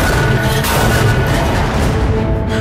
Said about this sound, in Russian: И пушка вдребезги разносит мишень.